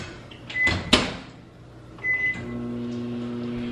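A microwave oven hums steadily while heating vegan chocolate for dipping dates, with a couple of sharp clicks and short electronic beeps standing out near the start and again midway.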